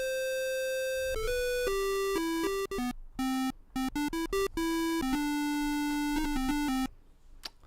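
A bright, buzzy 50% pulse square-wave melody from the Magical8bitplug2 chiptune synth, made of a quick run of stepping notes with short rests, played alone with no voices.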